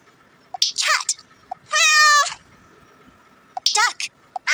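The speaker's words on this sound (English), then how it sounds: "Cat." A cat meows several times in short, separate calls, with one longer, drawn-out meow in the middle; loud and close, with quiet gaps between.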